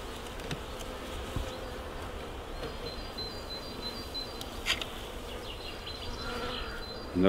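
Honey bees hum steadily at an open hive in the field, a dense buzzing swarm heard close throughout, with a few brief higher whines as individual bees pass near.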